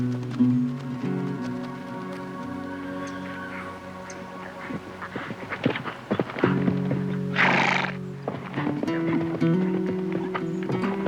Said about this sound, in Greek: Όταν φτάσαμε, έφτανε και ο πατέρας Μακάριος με το άλογό του